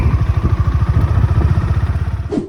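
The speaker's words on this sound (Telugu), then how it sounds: "స్టార్ట్ చేసిన వెంటనే ఇంజిన్ సౌండ్ చాలా సాఫ్ట్ గా, వైబ్రేషన్స్ అనేది వెరీ మినిమల్ గా ఉంటాయి" A Honda H'ness CB350's 348 cc single-cylinder four-valve engine idles up close with a steady, even, soft thumping, then cuts off abruptly just before the end.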